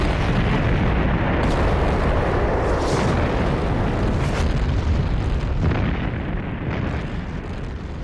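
A salvo of World War I artillery shells, whiz-bangs, bursts in a heavy continuous rumble of booms and blasts, loud and overlapping, with no talk.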